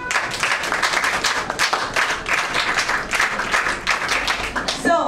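A small classroom group claps for a student, a loose, uneven patter of individual hand claps close by that keeps going for several seconds before a sharp sound at the very end.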